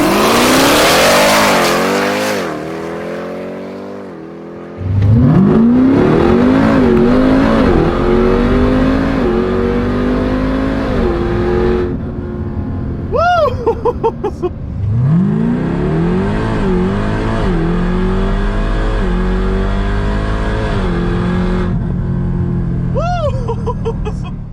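A 1150-horsepower Jeep Trackhawk, running without nitrous, launches hard, its engine screaming up through the revs in rising sweeps, with quick shift breaks between gears and a second full pull. The sound is loud and close, and voices are heard briefly.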